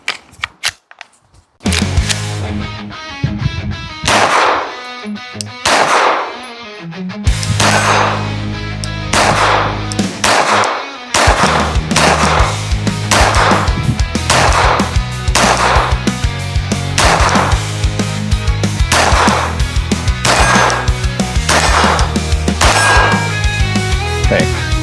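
Glock pistol fitted with an Advantage Arms .22lr conversion kit firing a string of sharp, loud shots at a target about 50 feet away, paced irregularly with brief pauses between bursts.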